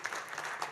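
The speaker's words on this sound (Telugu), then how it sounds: "గట్టిగా చప్పట్లు కొట్టండి." An audience at a stage event claps, a brief dense burst of applause heard at moderate distance.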